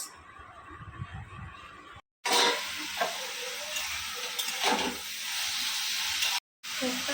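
Banana stem frying in a pan on a home stove, a steady close sizzle with stirring scrapes, broken by two brief cuts to silence.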